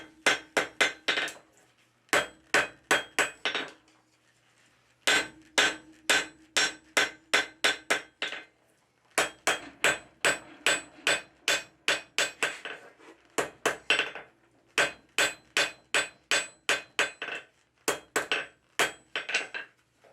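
Steel cold chisel being forged by hand, its cutting edge hammered in rapid bursts of sharp ringing blows, about five to eight strikes per burst, separated by brief pauses, close and loud with metallic clink.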